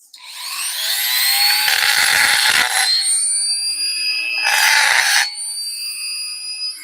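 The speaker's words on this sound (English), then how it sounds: "This is carbide, so it's meant to cut through even steel." A carbide cutter on a power tool bites into steel with a loud, high shrieking whine in two long bursts, ringing tones lingering between them.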